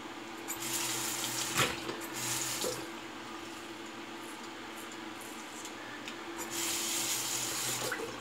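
Tap water running into a sink as a Leaf Shave razor is rinsed, a steady close splashing stream with brief louder bursts and clatters as the razor passes under the flow.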